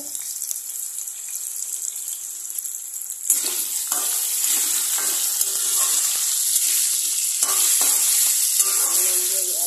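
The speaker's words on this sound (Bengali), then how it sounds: "এটাকে পুরোটা আগে ভেজে নেব আলুগুলোকে। নুন দিয়ে দিচ্ছি।" Potatoes with salt fry in a pan for aloo posto, a loud steady sizzle close up. It swells partway through and is joined by light stirring clatter and spatula knocks.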